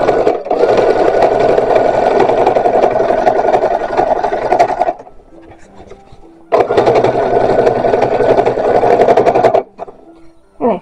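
A sewing machine stitches boning channels down the side seam of a 1920s brassiere, or bust compressor, running in two long, loud, steady bursts with a short pause between them.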